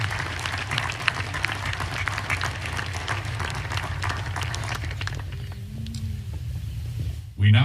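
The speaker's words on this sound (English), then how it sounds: "please join me in a round of applause for our retiring faculty members" Sustained applause from a ceremony audience at the Army War College honors retiring faculty, a broad steady clatter of many hands that tapers off toward the end before a voice resumes.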